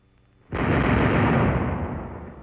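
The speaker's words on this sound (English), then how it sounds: "Artillery" Artillery fire from a 1954 military documentary on breaching a minefield: a sudden heavy blast erupts and rumbles on as a dense, sustained roar of bombardment.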